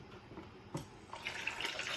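Water poured into a small spinning eyelash container, a faint splash at first, then a steadier trickle and swirl of water that rises and stays light and close.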